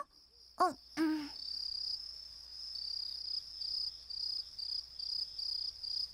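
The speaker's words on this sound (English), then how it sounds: "It's grasshoppers. You can hear them on a quiet night." Grasshoppers chirp in a steady high-pitched trill with pulsing bursts, preceded by two short hooting calls against a quiet night background.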